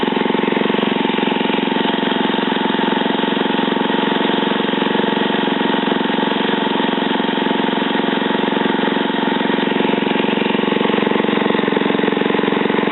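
A mud motor engine idling while it warms up, a steady, loud, close droning rumble that holds unbroken and even throughout, with no voices.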